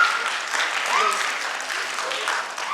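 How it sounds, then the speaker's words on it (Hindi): Audience applause welcoming young director Shalini Malviya at a stage honouring ceremony, a steady wash of clapping throughout with faint voices mixed in. "आप सब जोरदार तालियों से स्वागत करें हमारी युवा निर्देशिका सुश्री शालिनी मालवीय"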